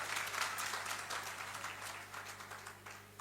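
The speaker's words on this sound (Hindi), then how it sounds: "जरा तालियां बजा दें हम सब" An audience at a religious discussion gathering in Agra claps together in a brief, faint, dense burst that slowly thins.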